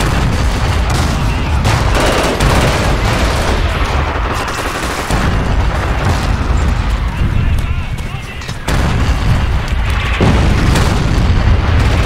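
Grenade explosion in the Battlefield 2 mod Forgotten Hope 2 amid heavy combat, loud booms and gunfire bursts layered over continuous battle noise, with players talking over the top.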